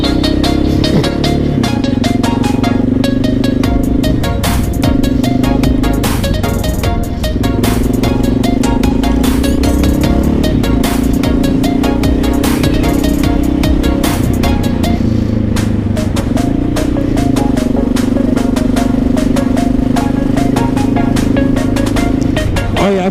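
Motorcycle engine droning steadily while riding in cold weather, loud and continuous throughout with slight shifts in pitch, heard close with wind rush over it.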